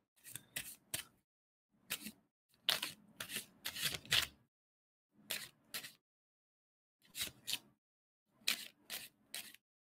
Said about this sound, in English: tell me when I should stop shuffling the cards